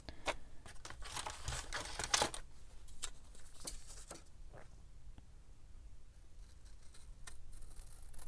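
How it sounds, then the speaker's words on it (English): Scissors snipping the edges of a lace-covered vintage-style craft slide mount, a quick cluster of close, crisp cuts early on followed by a few scattered snips and light paper handling, with no talking. "I need to trim the edges just a little bit"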